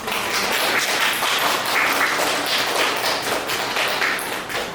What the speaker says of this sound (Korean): 큰 박수로 조명을 맞이해주시기